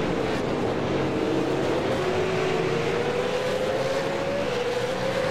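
V8 Supercars in an iRacing broadcast race in a close train at Mid Ohio, their engines making a loud continuous drone whose pitch climbs and falls slightly as they run nose to tail.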